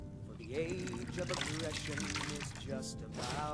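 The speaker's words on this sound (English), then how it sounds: "I wouldn't mind a refill of water." Water pours as a drink refill in the game Skyrim, a soft continuous trickle and glug running under a speaking voice at moderate distance.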